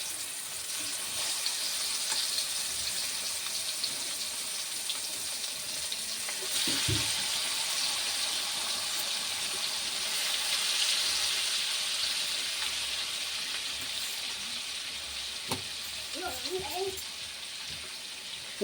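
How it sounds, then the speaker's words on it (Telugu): Fish pieces frying in oil over a medium flame, a steady soft sizzle running throughout with a few brief clinks and handling knocks, fairly quiet and with no talking. "ఇప్పుడు మిగతావి కూడా మనము ఆయిల్లో వేసి ఫ్రై చేసుకుందాం."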